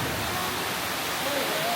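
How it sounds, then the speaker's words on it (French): A waterfall inside an underground stalactite cave in southern France roars as a steady, broad rushing wash of water, loud and continuous, with faint voices heard faintly under it. "瀑布来了，水帘洞"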